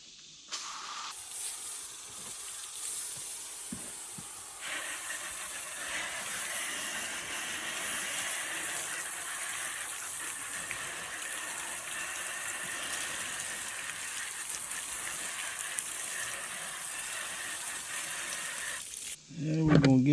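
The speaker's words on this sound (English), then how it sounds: "We're going to give this a rinse." Running water rinses a freshly gutted catfish in a steady, close, broadband hiss lasting nearly twenty seconds, with a brief clatter as it stops.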